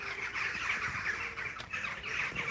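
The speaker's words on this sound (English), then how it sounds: "these bird noises are quite awesome" A flock of birds calling from a tree at dusk as they settle for the night, a dense, continuous chorus of overlapping chirps and calls at moderate distance, with no voices.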